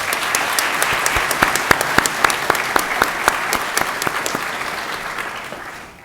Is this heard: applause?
yes